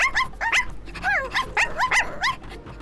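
An animated puppy from Tayo the Little Bus barks in quick, close, loud yaps, about a dozen short high barks with a few whiny yelps mixed in, in uneven bursts over nearly three seconds.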